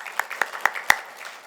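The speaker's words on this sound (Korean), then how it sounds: "우리 저 아이들을 위해서 우리 축복의 박수를 한번 쳐주기 바랍니다" A church congregation clapping in blessing for the children during a Sunday service: a few sparse, scattered claps, faint and short, with no talking over them.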